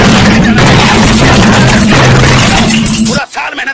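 Loud, dense bursts of booming explosions and gunfire from PUBG Mobile rumble continuously, then cut off abruptly near the end.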